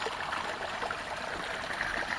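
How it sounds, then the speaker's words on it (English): A small spring of cool water trickles on a mountain trail on Mt. Baldy, giving a steady close babble and gurgle throughout with no pauses and no voices. "Run us to a little spring here of cool water."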